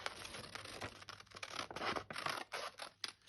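Scissors cutting through a paper template, a rapid run of crisp snips and rustling paper close by, continuing for a few seconds with no talk.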